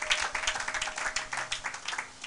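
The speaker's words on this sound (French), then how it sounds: "Acclamez pour la gloire de notre Seigneur, notre roi, notre Dieu" A church congregation applauding, steady rhythmic clapping from many hands, moderately close and continuous, with no voices over it.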